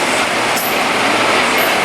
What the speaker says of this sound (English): running is a Class 43 HST bound for London Paddington